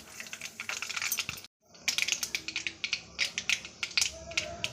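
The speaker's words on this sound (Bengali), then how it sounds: "তেলটা গরম হয়ে গেছে, এখন তেলের মধ্যে দিচ্ছি এই যে সর্ষে" Mustard seeds dropped into hot white oil in a wok give close, bright crackles and pops, with sharp spattering bursts that pause briefly and then resume more loudly.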